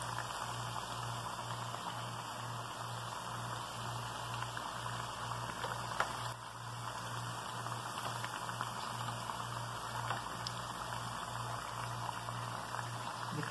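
Food sizzles in a pan of oil that is hot but not too hot. A soft, steady crackling hiss runs throughout, with a faint electrical hum underneath, and no one speaks.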